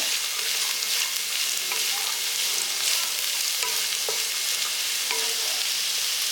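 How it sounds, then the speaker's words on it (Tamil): Vegetables for a Tamil poriyal sauté and sizzle steadily in a pan, with occasional soft scrapes and clinks of a utensil stirring; no voices. "சிறுதையிலே நல்லா வதக்கி விடுங்க"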